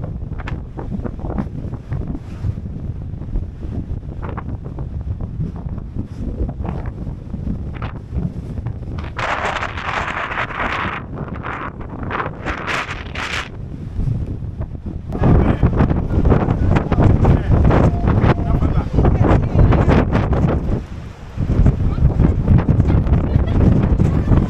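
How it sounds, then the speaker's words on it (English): Strong wind buffets the microphone above ocean surf on a cold day at Cape Point, Cape of Good Hope, South Africa. A steady rough rumble grows noticeably louder and fuller in the second half. "Look at the waves."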